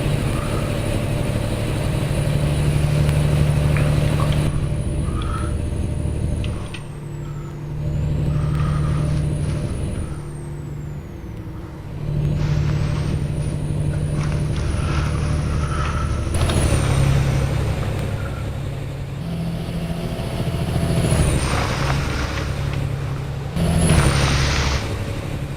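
A Kenworth W900 truck in American Truck Simulator hauls oversized steel. Its engine drones steadily under high-pitched whines, and there are several sharp hisses of air brakes, with no talking.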